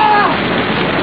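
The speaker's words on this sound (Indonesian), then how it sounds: "Sambar geledek." A loud thunder and lightning strike sound effect in an Indonesian radio drama fills the whole moment with a dense, crackling roar.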